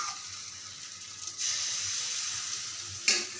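Rice-flour batter for kheer-filled patishapta sizzles in a hot oiled pan, a soft hiss that swells as more batter goes in, with a brief sharper burst near the end.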